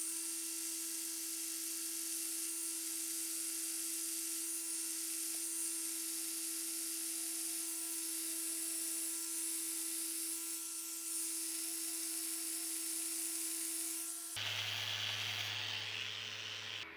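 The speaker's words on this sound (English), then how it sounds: "this drill press is going to create these little plugs that we'll chip out and use to hide the screws" A drill press bores wooden plugs for a live-edge coffee table, giving a steady high whine throughout, and then the pitch and tone shift abruptly near the end.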